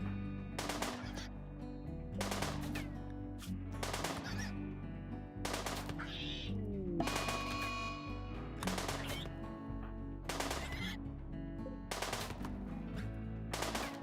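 Rapid bursts of gunfire in the video game Rimworld as colonists shoot a honey badger, regular loud volleys repeating over steady game background sounds and goose-like honks.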